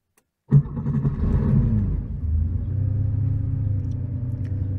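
A Porsche engine cold-starts at about 10 degrees, opening with a loud abrupt crank and catch, then a low steady rumbling idle that settles slightly lower after a couple of seconds, recorded close by.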